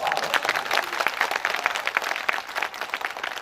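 An audience at a Buddhist vihara gathering breaks into hearty applause, a lively mix of many hands with some distinct sharper claps standing out, sustained at moderate loudness.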